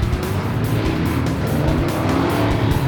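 Short course race trucks at the Stampede race in 2017 roar steadily close by, engines droning loudly with rhythmic surges as they race together, with no talking.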